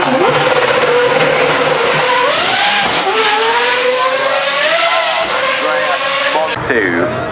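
A Ferrari Daytona SP3 accelerates hard up the Goodwood Festival of Speed hill, its engine note rising and falling through gear changes, loud and close, with a voice talking over it.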